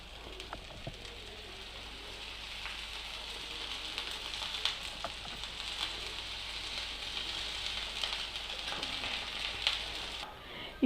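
A ragi roti cooks on a hot griddle stone over a medium flame, giving a soft, continuous crackling sizzle with faint scattered ticks and pops, quiet and steady, with no voices.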